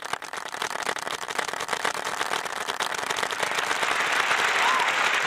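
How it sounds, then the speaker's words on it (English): A crowd at a live hackathon demo showcase claps, starting as scattered individual claps and building into fuller, steady applause toward the end. "Clap it up again. One more time."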